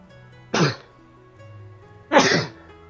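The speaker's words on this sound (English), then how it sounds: "Damn sneezing" Two sharp, loud sneezes come about a second and a half apart, each a short burst with a quiet hum in between.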